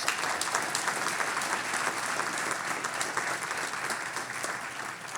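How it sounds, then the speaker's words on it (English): Dense audience applause for a committee at a sport leadership program launch, a thick, even wash of many hands clapping together, steady and sustained with no talk over it. "Give them a round of applause."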